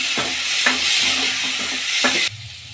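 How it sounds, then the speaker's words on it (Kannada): Chana dal fries in oil in a pan, a steady bright sizzle with a few stirring scrapes, close and loud, dropping to a quieter hiss near the end. "ಈಗ ಕಡಲೆಬೇಳೆ ಬೇಳೆ ಸೇರಿಸ್ಕೊಳ್ಳೋಣ ಫ್ರೈ ಮಾಡ್ಕೊಳ್ಳೋಣ"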